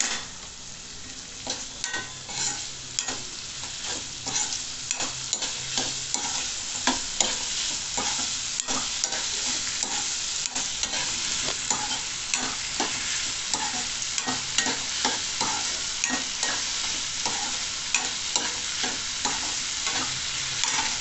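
Bell pepper stirred and frying in a pan, with a steady broadband sizzle and frequent clicks and scrapes of a utensil against the pan throughout, close and alone without any voices.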